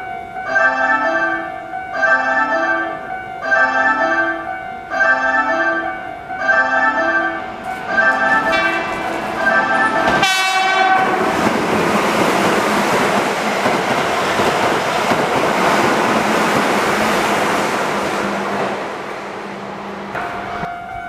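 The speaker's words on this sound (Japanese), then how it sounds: "電車が通過します" A repeating station chime plays several times at Kōzenji Station, then a Keihan 8000 series express train rushes through without stopping, with a loud, sustained roar and rattling that slowly fades.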